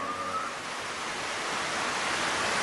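Water gushing in a Hindi-dubbed Stone Age cartoon comes through as a steady, loud broadband rush, like surf or a waterfall, that swells slightly toward the end with no talking over it.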